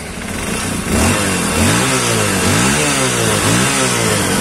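A Yamaha MX King 150cc motorcycle engine revs up from idle, rising and falling through repeated throttle blips, loud and close with no talk.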